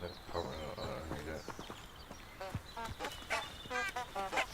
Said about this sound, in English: Like squeaky horn things? Ducks, kind of.